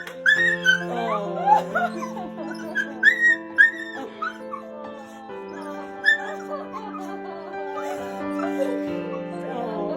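A dog whimpering and whining in high, wavering cries on reunion with its owner, repeated in bursts over a steady background tone, with a few short yips mixed in.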